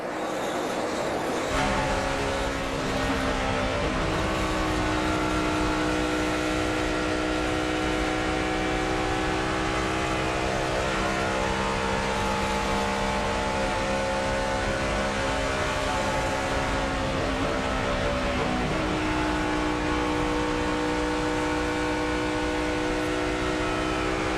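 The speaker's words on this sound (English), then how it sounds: "Let's listen to the car" In-car sound of a NASCAR race car at speed at the 2010 Dollar General 300, a loud, unbroken engine drone with steady harmonic whine that shifts pitch gradually as the car carries throttle around the track.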